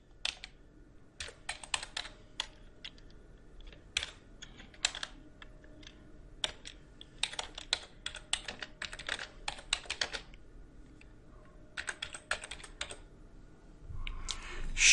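Code is typed on a computer keyboard in irregular bursts of close, crisp key clicks with short pauses between runs, and a rising rustle at the very end, with no voices.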